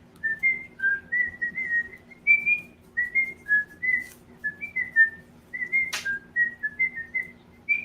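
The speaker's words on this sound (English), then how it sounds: "I got the Steamboat movie, the original where he's whistling." A person whistles the tune from Steamboat Willie alone, a string of clear short notes in a bouncy rhythm, close and fairly quiet against a faint hum.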